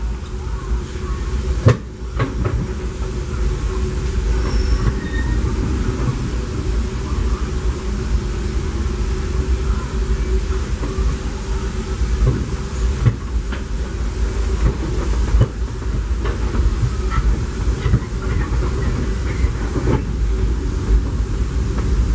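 Steady low rumble and hiss of a moving steam train heard from inside a passenger car, continuous throughout with occasional faint clicks and knocks.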